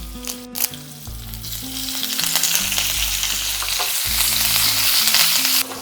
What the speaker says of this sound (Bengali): দিয়ে দিচ্ছি সামান্য একটু হিং, সাথে দিয়ে দেবো জুলিয়ান করে কাটা আদা, দিয়ে দিচ্ছি কাঁচা পাকা লঙ্কা, আর সব শেষে দিয়ে দেবো সামান্য একটু কারি পাতা